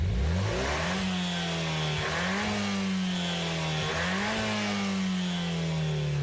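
The simulated engine of a Peugeot RCZ in a sim racing game revs up and settles repeatedly, a loud, steady mid-pitched drone climbing and dipping in a few surges with no voices.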